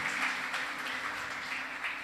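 Church congregation applauding during a Sunday morning communion service, a soft, distant, sustained patter of many hands clapping steadily.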